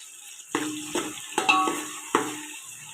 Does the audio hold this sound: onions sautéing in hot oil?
yes